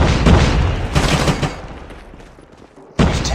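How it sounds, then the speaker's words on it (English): Loud bursts of gunfire and an explosion from a Call of Duty Mobile team deathmatch, heavy crackling blasts near the start, a fading rumble, then another sharp blast at the end. "Frag out! Grenade out!"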